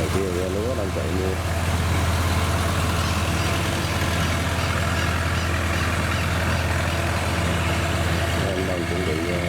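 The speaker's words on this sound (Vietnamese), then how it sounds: "Xe đang chuẩn bị lên mọi người." A rice combine harvester rumbles loudly as it drives onto a ferry in the Mekong Delta, its heavy diesel engine droning and idling steadily throughout, with voices talking over the noise.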